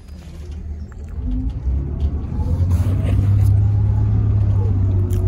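A bus rumbles past on a street, a low engine drone swelling from moderate to loud and holding steady near the end.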